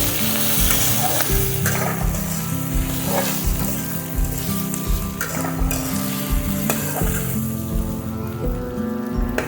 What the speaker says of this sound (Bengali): ভালো করে শিম, আলু, মূলো ভালো করে আমি একটু কষিয়ে দেবো।